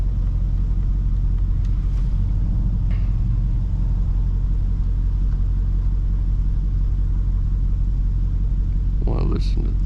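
A Dodge Challenger Hellcat Charger cruises in morning traffic, its engine a steady low rumble with a faint supercharger whine underneath, heard from inside the car, with a brief burst of noise near the end.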